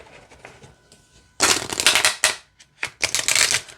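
A deck of oracle cards is shuffled in two quick bursts of crisp, riffling flutter, close and loud, separated by a short pause.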